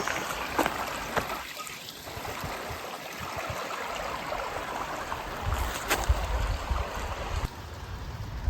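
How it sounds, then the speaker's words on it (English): Spring water trickles out of a rock outcropping beside a dry creek bed along a forest hiking trail, making a steady soft rush and gurgle with no voices over it. "out of this outcropping is where the water comes out"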